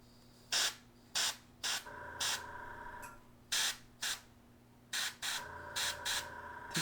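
An airbrush sprays paint onto a tabletop miniature doorway in short, close bursts, around a dozen sharp hissing puffs with pauses between and a faint steady hum underneath.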